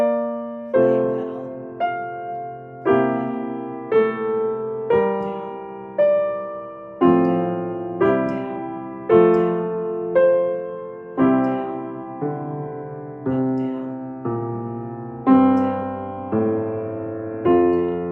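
Piano playing Schumann's Traumerei, Op. 15 No. 7, with pedal held on beats and sustaining chords, slow lyrical phrases with soft struck notes ringing into each other, close and clear throughout.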